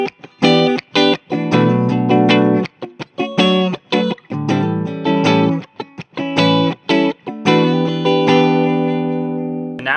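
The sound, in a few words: 1981 Gibson Sonex Artist electric guitar, middle pickup, distorted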